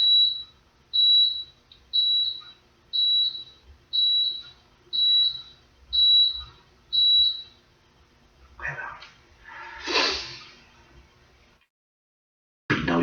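Dishwasher end-of-cycle beeps sampled in an early-1990s-style pop song: eight evenly spaced, shrill electronic beeps about a second apart, then a brief burst of noise and near silence.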